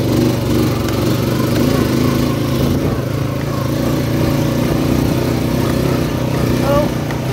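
A Honda quad ATV engine drones steadily while riding in fourth gear, a loud continuous low rumble that holds nearly constant throughout.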